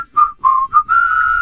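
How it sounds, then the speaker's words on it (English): Guests in a radio studio whistle a short, clear melody of a few sustained notes, loud and close, with no talking. "some lovely whistling work by our guests here in the studio"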